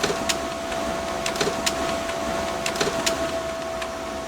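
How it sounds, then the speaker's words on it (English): A printer running in a game setting, a steady mechanical whir with a thin constant tone, broken by repeated sharp clicks and ticks at uneven intervals. "The printer is working."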